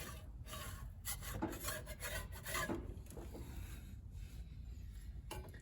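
Gasket material being scraped off a Ford Bronco part, a steady rasping scrape in repeated short strokes, close and moderately loud with no talk.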